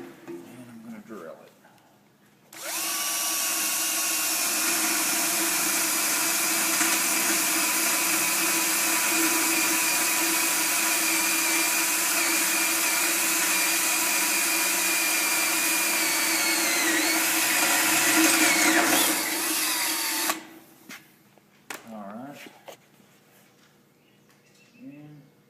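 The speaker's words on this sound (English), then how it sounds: "I've got my drill right here ready to go. And I'm going to drill it." A power drill runs steadily for about eighteen seconds, drilling a bolt hole for a pedestal bracket, loud and close, its pitch sagging slightly near the end before it stops, with faint sounds around it.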